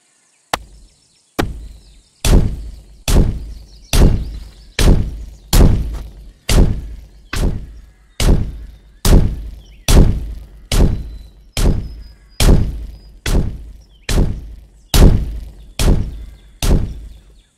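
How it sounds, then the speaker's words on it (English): A bombing raid attack in the video game A Farlands Tale 2 lands as a long, evenly spaced series of heavy thumping impacts, about seventeen loud blows in a row with brief gaps between them. "Bombing raid."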